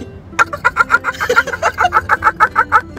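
A man imitates a laying hen with his voice, giving a steady run of about fifteen loud, clipped clucks in a quick even rhythm, close and alone without other talk.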